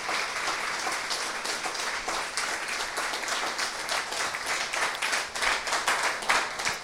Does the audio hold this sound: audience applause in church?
yes